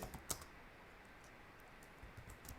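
Typing on a computer keyboard while writing Python code, heard as faint, scattered key clicks in a quiet room, with one sharper tap early and a small cluster near the end.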